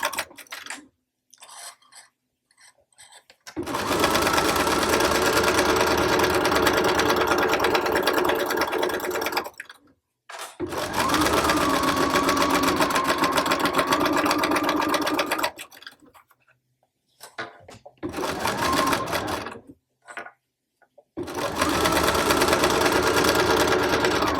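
A sewing machine stitches a mock bag in several loud, steady bursts of rapid whirring, broken by short pauses between seams.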